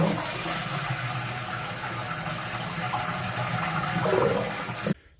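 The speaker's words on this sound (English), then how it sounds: "now we just let all the water go by lifting up the discharge valve." A Grohe Rapid SL concealed toilet cistern empties as its discharge valve is lifted, a loud continuous rush of draining water lasting about five seconds before cutting off abruptly.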